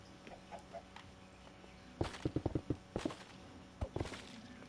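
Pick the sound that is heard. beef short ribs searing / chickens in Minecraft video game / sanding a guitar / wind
chickens in Minecraft video game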